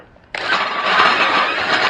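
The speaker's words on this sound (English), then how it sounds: "Now I'm going to attempt to drill the holes" A power drill starts abruptly and runs loud and close, a sustained buzzing whine while holes are bored for a crane beam installation in a workshop.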